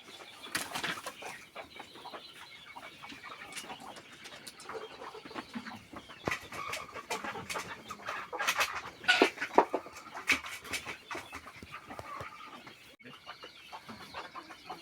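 Desi hens clucking and squawking while being caught, with bursts of wing flapping and scuffling, fairly close and continuous, with little or no talk.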